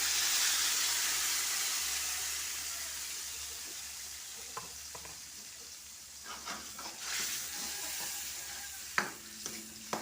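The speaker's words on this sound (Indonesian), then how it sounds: "bunda masukkan bumbu halusnya" Ground spice paste hits a hot pan for a papaya-flower and banana-blossom tauco dish, letting out a loud, steady sizzling hiss that slowly eases, with scattered stirring clinks and scrapes toward the end.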